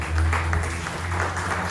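Church congregation applauding during a Spanish-language sermon, a steady dense wash of clapping over a low hum, with no distinct voices.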